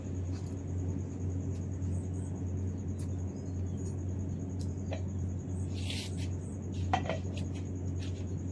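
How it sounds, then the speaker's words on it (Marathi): A metal gate is opened outdoors before dawn, with scattered clanks and metallic rattles over a steady low hum, including a louder jangling burst near the end. "गेट काढून घेते मी."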